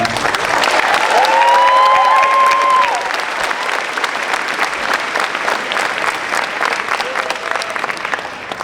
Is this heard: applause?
yes